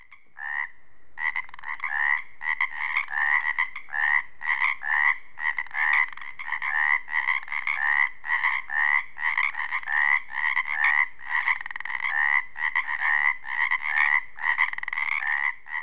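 A dense mating-season chorus of small male frogs croaking in rapid, pulsing bursts, loud and continuous for the whole stretch, with no voices.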